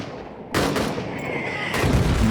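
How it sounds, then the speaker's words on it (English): Artillery fire in the trench warfare game All Quiet in Trenches: a sudden loud blast followed by sustained rumbling explosion noise and a second heavy burst, close and forceful. "He literally just got hit by artillery."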